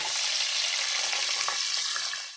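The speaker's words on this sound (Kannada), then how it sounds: "ಈರುಳ್ಳಿ ಎಲ್ಲ ಸ್ವಲ್ಪ ಚೆನ್ನಾಗಿ ಫ್ರೈ ಆಗಲಿ" Sliced onions and green chillies frying with bay leaves and star anise in a pan for soya chunk pulao: a dense, continuous hiss of oil, close and steady, with light stirring and no voices.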